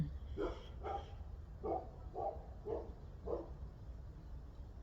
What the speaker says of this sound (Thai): เห่าดีเลยค่ะ